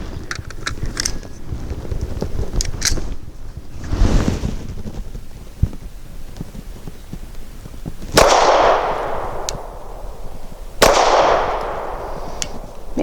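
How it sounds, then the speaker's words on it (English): A Canik TP9 Elite SC pistol firing Remington UMC 124 grain rounds outdoors at dusk, with sharp, loud reports, a few widely spaced shots each trailing a short rumbling decay, over handling noise and wind. "next up I'm going to shoot the Remington UMC."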